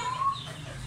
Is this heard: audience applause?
no